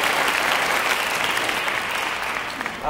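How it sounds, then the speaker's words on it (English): Steady, dense audience applause fills a church venue after a grade 8 school band's fall concert, sustained and fairly loud throughout with no talking over it. "Let's have a big round of applause for the musicians on stage, in the balcony, and in the audience."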